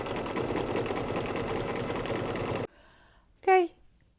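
An embroidery machine stitches an in-the-hoop mug rug with a dense, steady mechanical whir that breaks off suddenly; a short high electronic tone follows in the quiet.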